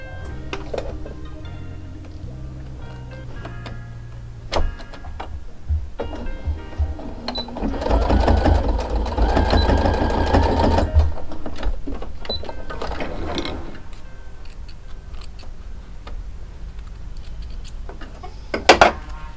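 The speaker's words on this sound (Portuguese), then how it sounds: "Agora a gente vai ter que passar uma costurinha daqui até aqui," An electric sewing machine runs a seam on a baby shoe, country-style bootie, with a steady whirring stitch that swells loudest in the middle, starts and stops around it, and faint clicks and handling noises, no talk.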